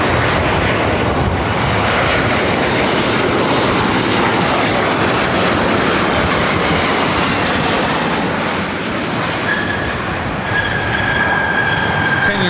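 A 10-year-old Delta Airlines Boeing 737-900ER arriving at LAX from Portland, a loud, steady broadband engine roar holding close and constant throughout, with a faint whine emerging near the end.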